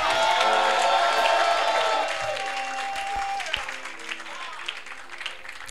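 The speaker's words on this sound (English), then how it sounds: "I thought you would clap and shout." Church congregation clapping and shouting during a sermon, loud cheering and whoops over sustained applause that gradually subsides to scattered claps.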